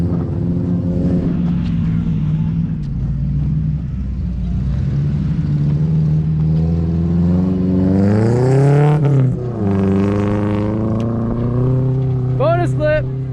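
A 1987 Toyota pickup fitted with a new exhaust revs up and back down: a steady engine drone rises to a strained peak and then falls back. A brief whistle-like tone sounds near the end.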